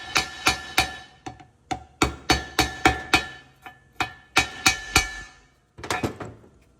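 A hammer taps a socket set over an injector seal on a Ford 6.7 PowerStroke diesel, about twenty sharp metallic knocks in quick uneven bursts, close and loud, with brief pauses between runs.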